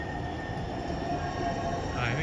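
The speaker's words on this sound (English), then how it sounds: "1, 2, 3 trains for the Green Line right now" Green Line light rail trains pass on a street in Saint Paul, Minnesota, a steady, loud rumble close by with a faint wheel squeal toward the end.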